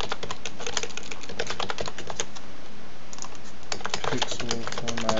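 Code typed on a computer keyboard, rapid close clatter of keystrokes in bursts with a short pause midway, loud and crisp, someone talking over parts of it.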